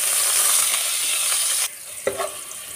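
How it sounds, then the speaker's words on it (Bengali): Chopped garlic and ginger stirred into hot oil in a wok give a bright, dense hiss that suddenly drops off, followed by a scrape or two of the spatula against the pan. "এটা অল্প একটু নেড়ে"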